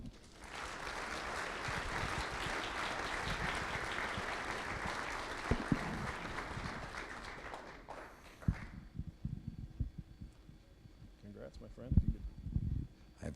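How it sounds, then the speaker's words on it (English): Audience applause at a digital leadership awards ceremony, steady and fairly loud for about eight seconds before dying away into scattered claps, shuffling and room noise. "Let's all give him a round of applause."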